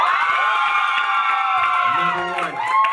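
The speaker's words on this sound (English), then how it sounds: "We can get an applause right there." A studio audience cheers and whoops loudly and steadily, with bright shouting voices and some applause sustained throughout.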